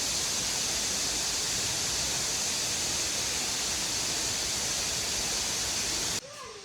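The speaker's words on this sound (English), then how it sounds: "The water glides smoothly over the stone, creating a soft, soothing cascade that echoes through the quiet forest." Steady, dense rush of falling water, loud and constant like a waterfall pouring over stone in a mountain forest, cutting off abruptly near the end.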